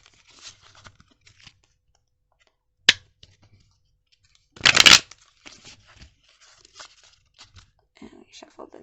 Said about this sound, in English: Let's get a quick shuffle.